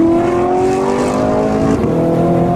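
An Audi R8 supercar driving fast roars close by with a loud, sustained engine note whose pitch slides slowly as it accelerates and changes gear, with no talk.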